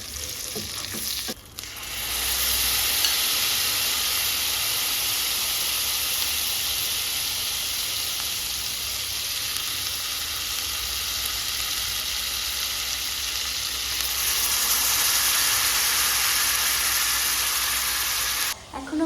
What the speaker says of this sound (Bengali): ওই প্যানটাতেই আমি একটু তেল আর একটু বাটার দিয়ে দিলাম চিকেনটাকে এর মধ্যে একটু রোস্ট করে নেবো